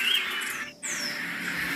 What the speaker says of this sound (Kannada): ಹಕ್ಕಿಗಳ ಚಿಲಿಪಿಲಿ ಶಬ್ದ.